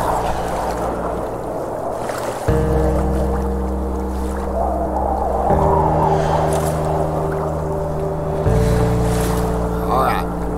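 A raft moving across icy Arctic water in a survival game, with steady sloshing water under a droning, stepped musical tone that shifts pitch every few seconds.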